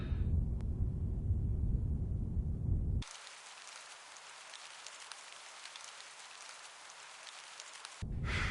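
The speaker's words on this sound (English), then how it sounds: "Why does it always rain in England?" Steady rain from a video game, a dense even hiss of falling water that suddenly cuts in after a low rumbling passage and runs unbroken for about five seconds before the heavier low sound returns.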